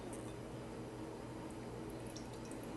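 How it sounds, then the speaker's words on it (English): Lemon juice poured through a cook's fingers in a kitchen, dripping and trickling in soft, steady patter close by, with no talking. "pour it right in your hand. It'll go through your fingers,"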